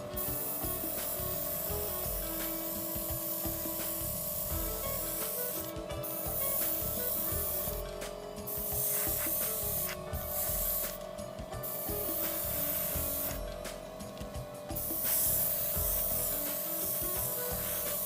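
An airbrush sprays a coat of paint onto a scale model in a series of bursts, each a loud airy hiss of a second or two, over a steady compressor hum.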